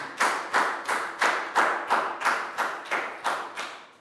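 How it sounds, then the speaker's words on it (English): A small class of schoolchildren claps in unison for a classmate in an English lesson, about ten sharp, evenly spaced collective claps in a steady rhythm, fairly close and moderately loud. "Big round of applause for Pak Bung"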